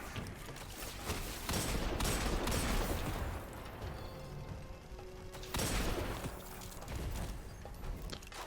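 Gunfire in Destiny 2: sustained, dense bursts of shots with crashing impacts, loud and continuous with a brief lull midway before another volley.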